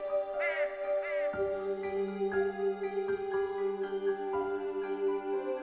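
Crows caw in a narrated scarecrow tale: two harsh, ragged caws close together near the start, heard over soft, sustained background music that continues after them.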